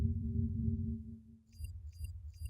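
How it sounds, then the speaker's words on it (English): Soft sonar-like pings and chimes from a GX browser mod play over a low droning background tone, with a few bright repeated blips in the second half. "Beyond that, there's also browser sounds."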